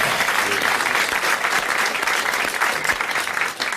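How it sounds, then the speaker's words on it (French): A studio audience at a 1985 French radio game show applauds a contestant, Monsieur Marandon, with dense, sustained clapping that holds steady throughout at an even level. "Bon, vous applaudissez Monsieur Marandon de Grande-Sainte."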